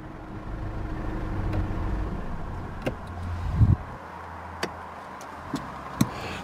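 A 2016 Mercedes-Benz CLA220d Shooting Brake's diesel engine idles steadily close by, then runs down and cuts off, leaving a quiet cabin broken by a few small clicks and ticks.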